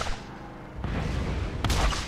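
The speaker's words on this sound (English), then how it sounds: "Fireworks!" A burst of booming blasts erupts partway through, followed by another sharp crack and rumbling explosions, like fireworks going off in a game, loud and close. Fireworks in Borderlands.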